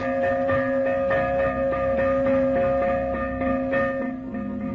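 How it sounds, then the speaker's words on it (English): A fire bell rings repeatedly in a steady rhythm, each strike ringing into the next, loud and continuous with no voices. "when the fire bell sounded"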